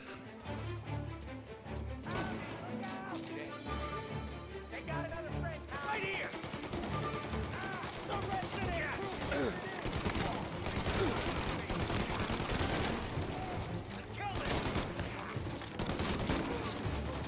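Gunfire in the game Mafia: Definitive Edition, a mix of rapid bursts and single cracks, rattles on at a fairly low level, growing busier in the second half with scattered voices mixed in.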